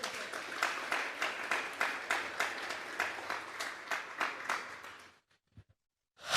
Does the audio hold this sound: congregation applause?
yes